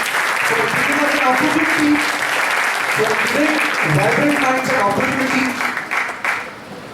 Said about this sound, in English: I think some applause for entire group.